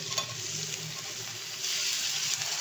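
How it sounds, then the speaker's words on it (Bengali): Food sizzles and crackles in a hot pan, the frying growing louder partway through as tomatoes are added and stirred. "এই টাইমে আমি এই টমেটোটা দিয়ে দেবো এর মধ্যে"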